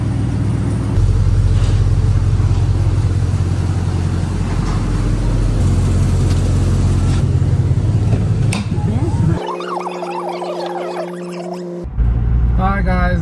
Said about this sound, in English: I need to start this up and start up the bikes as well